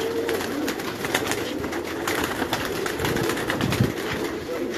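Karachi pigeons belonging to Ustad Haji Yusuf coo softly in a large cage, a steady murmur of overlapping coos with occasional wing flutters, heard over a busy, noisy background.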